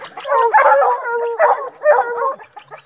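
Several hunting hounds and puppies bark and howl close by in a few long drawn-out bursts, with short pauses between the cries and no talk.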